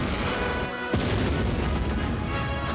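Live ammunition shell fired from an army gun in a sneak attack on a fuel dump: one loud, booming blast near the one-second mark, followed by a dense rumbling roar that fills the rest, with no talking.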